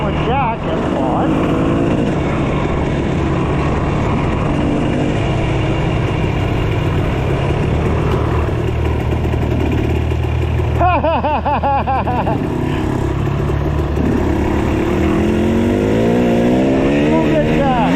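Honda CR150F off-road motorcycles ride together, their engines droning loudly and steadily throughout with shifting revs, plus a brief rising whine midway, under continuous wind and riding noise.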